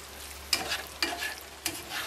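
Sauce being stirred through gnocchi in a pan, with soft sizzling under three quick scraping strokes of a utensil, close and moderately loud, and no talk.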